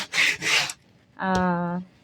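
Two quick rasping strokes of coarse number 60 sandpaper scrape over wood close by, then a short voiced sound follows.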